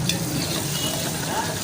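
Chopped onions frying in hot oil in a pan until brown, giving a steady, dense sizzle that runs evenly and close throughout, with no voices.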